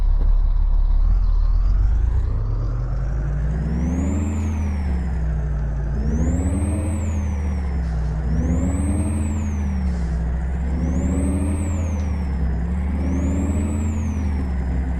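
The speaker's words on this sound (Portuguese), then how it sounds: "agora eu vou dar uma voltinha aí para mostrar o som dela como ficou" Modded Mercedes truck in Euro Truck Simulator 2 with a steady low engine drone and a rising and falling whine, punctuated by four evenly spaced air brake hisses, loud and close with no talking.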